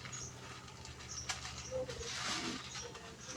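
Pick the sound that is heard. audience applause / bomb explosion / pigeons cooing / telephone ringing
pigeons cooing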